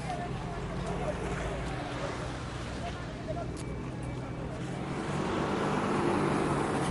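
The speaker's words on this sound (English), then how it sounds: "another truck pulls up" A truck pulls up outside a Haitian hospital after the earthquake, its steady low engine rumble growing a little louder near the end, mixed with crowd murmur and voices nearby.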